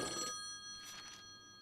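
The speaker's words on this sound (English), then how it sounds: "We gotta answer that phone." A telephone rings in an indoor scene, a faint electronic ringing tone repeating in quick bursts, quiet and somewhat distant with no talking over it.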